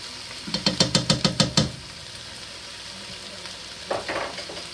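Garlic and tomato paste are stirred into a beef stew pot, beginning with a quick run of about eight rhythmic knocks of a utensil against the pot, then a quiet sizzling pause and a brief burst of stirring near the end.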